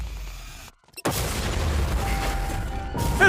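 An explosion blows something up during a chase escaping police, a sharp blast after a brief silence followed by a sustained loud roaring rumble with debris-like noise, heard alone without talk.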